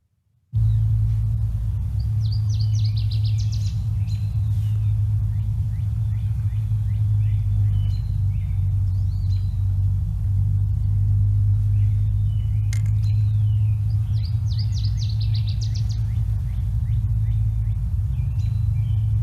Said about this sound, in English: mostly in the foreground, you'll hear a warbler singing